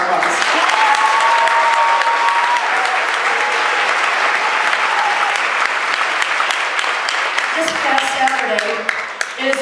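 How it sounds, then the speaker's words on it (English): An audience at a Panama Senior High band concert gives sustained, loud applause. The dense clapping runs throughout, with some faint voices mixed in. "So let's give them one more round of applause."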